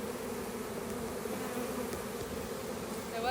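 A swarm of honey bees hums overhead as they crowd into an opening, a steady, dense buzz of many insects that stays fairly even and moderately quiet throughout.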